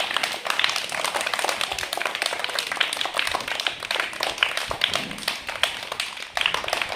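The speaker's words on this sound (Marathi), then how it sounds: "जोरात टाळ्या वाढल्या पाहिजेत" A classroom of young children clapping hard and fast, a continuous rapid patter of many small hands that stays loud and close for the whole stretch.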